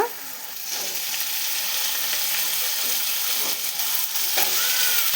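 Potatoes frying in oil alongside cooked tomato in a pan for a beetroot, potato and capsicum stir-fry, making a dense, continuous close sizzle with occasional soft stirring scrapes and no one speaking.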